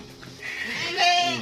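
Female goats bleat at close range, a wavering nasal cry building and growing louder toward the end, over faint background noise.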